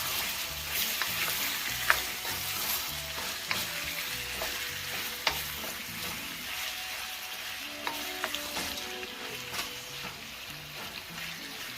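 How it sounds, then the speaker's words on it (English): Pepper shrimp fry in a pot while being stirred, giving a steady loud sizzle with scattered scraping and clinking of the spoon, close up and with no voices. "And the great part about cooking, you want to stir your pot."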